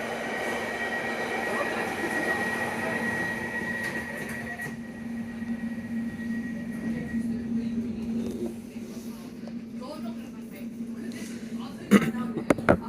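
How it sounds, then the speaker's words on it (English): A London Underground Central Line train runs past at Stratford, a steady rumbling drone with a faint high whine that fades over several seconds, followed by a couple of sharp clanks near the end. Voices are faintly present. "There goes the Central Line service."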